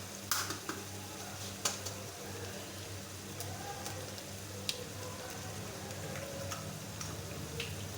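Eggs going into softened fried onions in a pan for an egg-onion bhurji, faint sizzling under scattered sharp taps and clinks of utensil against pan, close and quiet.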